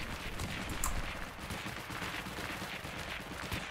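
Rapid bursts of automatic gunfire from teammates in the WWII shooter Heroes & Generals, a fairly distant crackling fusillade with overlapping shots, moderately quiet and without speech.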